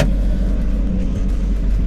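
Porsche 968 driven on the road, a loud, steady low engine drone with road rumble from inside the cabin, even and unbroken.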